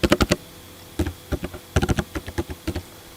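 Someone types on a computer keyboard while setting up an ASP.NET web application, giving irregular bursts of sharp, close keystroke clicks with short pauses between runs and no voice.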